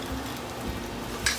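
Onions fry in a sauté pan with a steady, dense sizzle and crackle, heard close and continuous with no talking.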